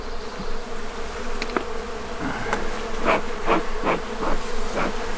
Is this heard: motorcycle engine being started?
no